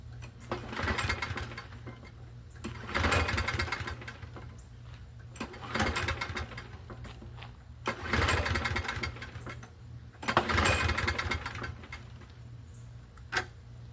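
A Toro Recycler lawn mower repowered with a Quantum engine runs nearby with a rattle, its loud drone surging in five or six swells over about fourteen seconds, no voices.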